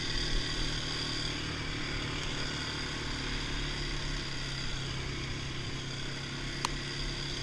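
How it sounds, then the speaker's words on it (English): Polaris ATVs, a Scrambler 500 HO and a Sportsman 570, ride around a farm. Their engines make a steady, continuous drone at moderate distance, with no pauses or talk. "we're just pinning it around the farm, just taking a nice joy ride on the wheelers"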